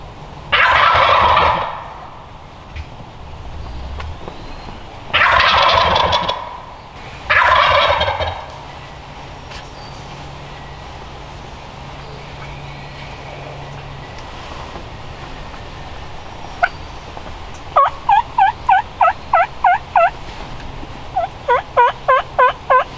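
Wild turkey gobblers gobble three times in loud rattling bursts at a hunt in the open, followed by quieter outdoor ambience, then sharp rapid clucking and yelping calls.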